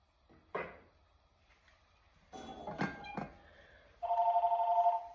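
A home telephone rings in a kitchen, a short burst of electronic trilling near the end that follows clinks and knocks of dishes and drawers.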